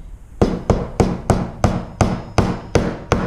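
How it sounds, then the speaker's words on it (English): A bushing is tapped into a Crankbrothers Mallet bike pedal with a tool, giving eight sharp, evenly spaced knocks that ring briefly and each fade before the next, close up with no talk. "Get your bushing in there. Square it up, give it a bit of a tap."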